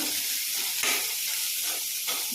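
Milk-soaked cashews sautéed in butter in a pan for paneer butter masala, giving a steady close sizzle with stirring scrapes and a couple of louder hissing bursts, no talking.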